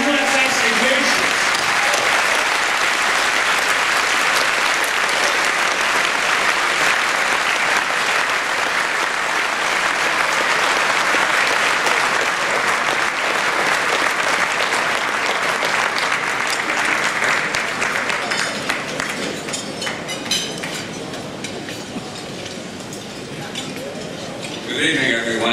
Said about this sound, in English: Give Paul a big round of applause for the USS Ignatius.